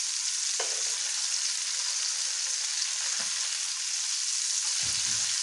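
Anchovy fish shallow-frying in hot oil, a loud, steady, dense sizzle from start to finish, broken by a few soft low knocks as the pieces are turned over in the pan.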